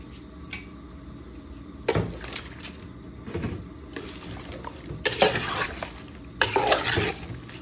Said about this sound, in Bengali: এখন ভালো করে মাখিয়ে নিব।